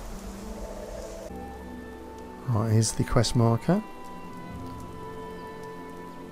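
Steady rain in the video game Fallout 76 falls across a swamp, a soft continuous hiss running throughout, briefly overlapped midway by a man's speech.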